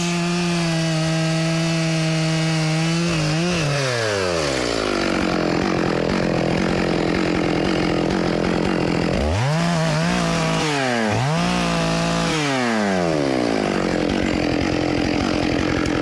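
A chainsaw cuts a notch into a huge tree, its engine droning loud and close while revving up and down through the wood, with pitch dips as the bar bites.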